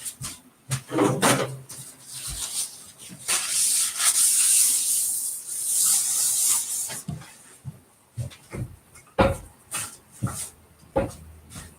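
Soap mixture for a Christmas tree soap being stirred with a thick utensil, giving repeated rubbing, scraping strokes, loud and close, with a sustained hissy stretch in the middle and no talk.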